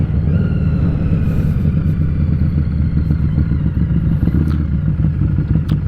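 A Harley-Davidson Street 500 motorcycle ridden at night, its engine a loud, steady low rumble with a throbbing pulse heard from the rider's position, close and unbroken, without speech.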